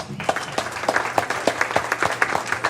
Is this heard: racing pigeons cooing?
no